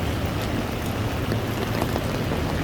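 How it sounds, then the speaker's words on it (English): Steady rain falls on a New York City street in the morning, a constant, even hiss with no pauses and no voices. "So it's out New York raining in the morning."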